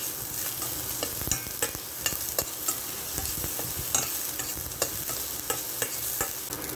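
Garlic sautéing in hot oil, a steady close sizzle broken by repeated clinks and scrapes of a utensil stirring the pan, with no talk.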